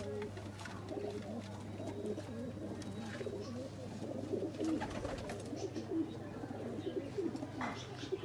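Highflyer pigeons coo softly and repeatedly against a steady low hum, with faint chirps and some background voices, in Faisalabad.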